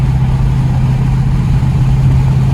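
A Stage 3 Roush Mustang making around 650 wheel horsepower idles at the line before a drag race, a loud, steady low rumble that holds constant throughout without revving.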